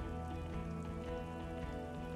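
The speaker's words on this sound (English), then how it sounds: "Rain comes down." Steady rain falls across an outdoor yard, a continuous dense patter holding even loudness throughout with no talking.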